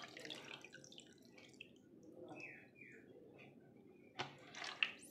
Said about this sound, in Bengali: তো তাই আমি প্রথমে এতে একটু জল নিয়ে নেব